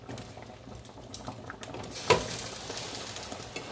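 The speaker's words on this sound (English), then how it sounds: "I just need for it to simmer." Cube steak with mushrooms, onions and green beans simmering on low heat in a pan, a soft steady bubbling patter throughout with a brief louder pop midway.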